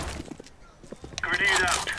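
An incendiary grenade lands and shatters in a tactical shooter game, a sudden bright glassy crack and whoosh of flame near the end of a short stretch of quiet in-game noise, with players talking.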